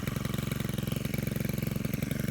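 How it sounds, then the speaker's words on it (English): A Stihl FS91R string trimmer's small engine idles steadily after warming up, a close, even, rapid putter with no voices. "The machine has been warming up for about roughly 5 minutes now, which is plenty enough time to get this small engine up to temperature."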